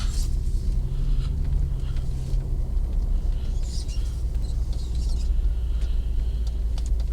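A Hummer H2 drives through drifting snow, a constant low engine and road rumble heard from inside the cabin, steady and moderately loud throughout with no talk.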